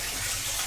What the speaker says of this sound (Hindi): यहाँ पे मैं कपड़े भिगोने के लिए पानी चलाई हूँ